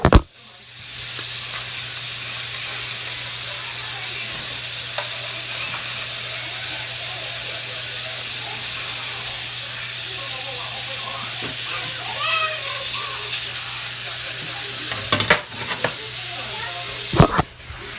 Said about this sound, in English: bacon sizzling, hear that?